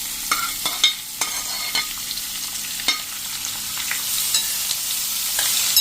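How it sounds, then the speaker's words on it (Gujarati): Raw mango chips tossed with spices in hot oil sizzle steadily, while a spoon scrapes and clicks against the pan every second or so. "અને એને આપણે આ રીતે તેલમાં મિક્સ કરી લેશું મસાલા સાથે"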